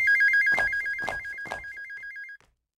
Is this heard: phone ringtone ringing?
yes